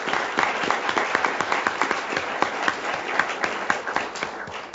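A school board meeting audience applauds a student, with many hands clapping in a brisk, steady patter of sharp individual claps that stays moderately close and even.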